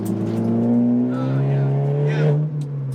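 Hard acceleration in a 2023 Honda Civic Type R with manual gearbox, the engine note climbing steadily while the tires squeal, loud and close from inside the car.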